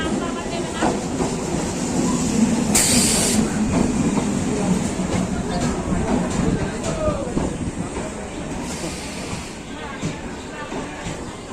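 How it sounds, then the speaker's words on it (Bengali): A Shantipur local commuter train pulls into a crowded station, its loud continuous rumble and rail clatter filling the scene, with a brief hiss partway through and voices in the background. "ট্রেন ঢুকে গেছে"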